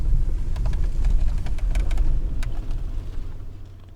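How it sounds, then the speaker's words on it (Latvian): A Voyager on a short test drive, heard as a low, steady rumble of engine and road noise from inside the car, with scattered light clicks and rattles, easing off toward the end. "Izbraukšu ar Jāņa Voyagerīti, vienkārši mazu līkumiņu testa tādu braucienu."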